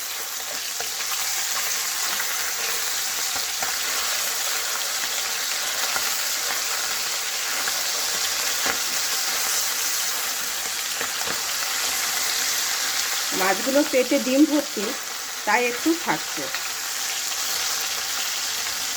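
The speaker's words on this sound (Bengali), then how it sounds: "এক সাইড ভাজা হয়ে গেলে উল্টে দেবো" Tangra fish, bellies full of roe, fry in oil in a covered pan on low heat after being flipped, giving a steady, close crackling sizzle throughout, with a person briefly speaking near the end.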